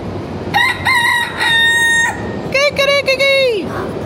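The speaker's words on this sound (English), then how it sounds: "A rooster in downtown." A rooster crows downtown, with a few clucks before a long, loud crow close by, heard alone without talk.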